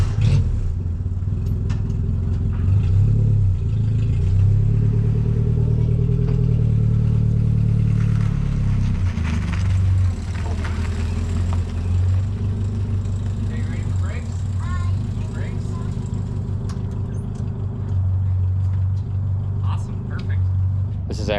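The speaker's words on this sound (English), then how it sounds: "A Samurai towing a Jeep." Suzuki Samurai engine idling and pulling as it tows a Jeep down a driveway, a low, continuous rumbling drone with clattering and some revving, heard up close as people talk over it throughout.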